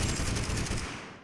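An AK rifle fires a rapid, loud burst of automatic shots in a video game, a dense stream of cracks that tails off quickly.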